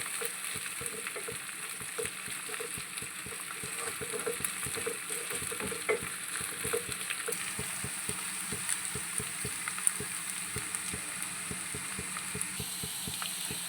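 Masala for prawn biryani frying in a pan and being stirred, a continuous close sizzle punctuated by frequent sharp scrapes and clinks of the spoon, with no voices.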